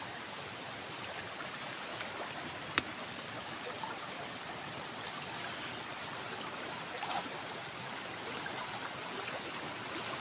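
Strong river current rushing steadily in a continuous broadband wash, with faint water trickles and small splashes throughout, close and alone without voices.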